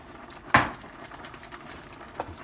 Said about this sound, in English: Putting my meatballs into the skillet, I'm just gonna dump them into the sauce like that.